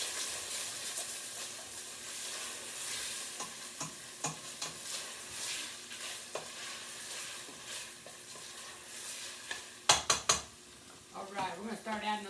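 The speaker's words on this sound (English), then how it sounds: "This stuff is frying up" Food frying in a pan with a steady sizzle throughout, occasional stirring scrapes and clinks of utensils against the pan, and a brief voice near the end.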